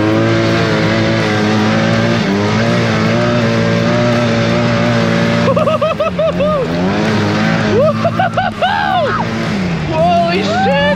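A side-by-side is revved hard at full throttle through mud in two-wheel drive, its loud engine roaring steadily, then rising and falling in surging revs toward the end, with a voice briefly under the noise.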